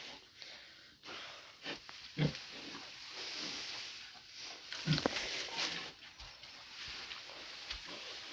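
A pig grunting and snuffling close by on a small farm, a few short low grunts scattered over soft rustling and breathy sniffs.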